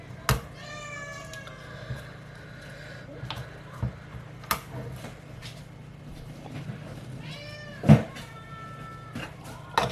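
A pet cat meows twice, short rising calls several seconds apart, heard near in a quiet indoor room with a few faint knocks and clicks around it.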